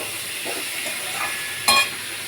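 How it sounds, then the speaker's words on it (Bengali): Green jackfruit frying in a pan with turmeric and salt, giving a steady sizzle and hiss with soft stirring scrapes and one brief louder clatter near the end. "এঁচোড়টা বেশ ভালো করে ভেজে নিয়েছি"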